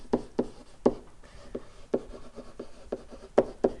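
Writing strokes during a physics lesson on velocity and acceleration, a quiet close series of short tapping and scratching marks in an irregular rhythm.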